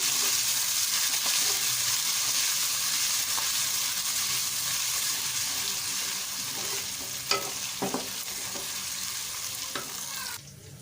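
Ginger and green chilies frying in a pan for an aloo methi sabzi, a close, steady sizzle with a few sharp stirring clinks near the end before the frying noise drops off, no talking.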